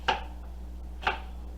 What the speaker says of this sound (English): Right now we're just chopping up some apples.